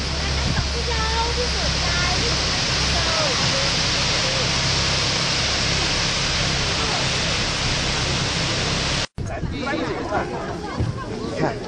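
A waterfall in Jiuzhaigou, China, roars steadily and loudly throughout, a dense rushing wash of water, briefly cut off near the end, with faint voices underneath.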